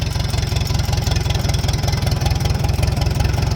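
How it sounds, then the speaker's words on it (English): An antique tractor engine runs at a steady, loud idle with a fast, even low chug while the driver works the clutch and brakes to change gears. No one speaks. "You push that clutch in, push your brakes, stop the tractor, and we're going to change gears."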